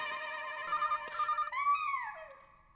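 A telephone rings indoors in a family sitcom household, a bright repeating electronic ringtone with short bursts, then a sliding tonal flourish that fades out, loud and close with no talk over it.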